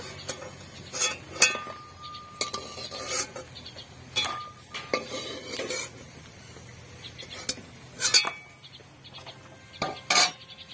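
Fried sago fritters are lifted from the pan with sharp metallic clinks and scrapes of a utensil against cookware. The clinks are scattered and irregular, with quiet pauses between them.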